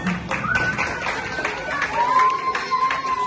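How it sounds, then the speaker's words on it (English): Parents at an end-of-program party for an African descent and Igbo language learning class clap in a scattered round of applause, with nearby voices and crowd chatter mixed in. "So a round of applause for yourselves."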